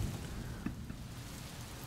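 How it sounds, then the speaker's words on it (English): Rain sound effect with a soft steady hiss of falling drops and faint low rumbles of thunder, quiet and continuous with no voices. "Tap, tap, cold drops of rain dot hair."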